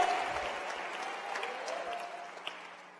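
Church congregation clapping together in praise during a sermon, a steady wash of applause that fades slightly toward the end, with a voice faintly underneath.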